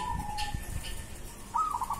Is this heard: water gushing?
no